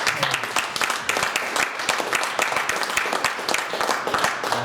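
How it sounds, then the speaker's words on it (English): An audience at a university regent candidate forum breaks into loud, continuous applause, with many close individual claps crackling irregularly throughout. "another round of applause for"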